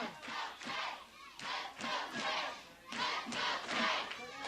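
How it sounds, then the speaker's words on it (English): A wrestling crowd at a steel cage tag match chants and cheers in rhythmic, pulsing waves of massed voices, heard from a distance at fairly low level. "This crowd is cheering on Chase Stevens."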